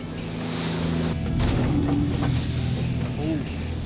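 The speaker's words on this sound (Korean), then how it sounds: "항구를 벗어나자마자 맞닥뜨린 4m 높이의 너울성 파도" A fishing boat heading out of an East Sea harbour meets 4 m high swell waves, giving a steady, loud wash of water and wind noise against the hull with no talk.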